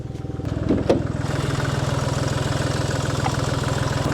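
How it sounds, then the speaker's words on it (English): VW Polo engine idling with a split exhaust flexi pipe, a steady close rhythmic chugging throb with a raspy puffing edge, plus a couple of brief knocks near the start. "I want to see where this blowing's coming from on the exhaust as well."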